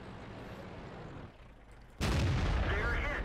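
A tank's main gun fires in World of Tanks, a sudden loud boom cutting in after a stretch of low rumbling engine noise and then sustaining a broad, heavy roar to the end.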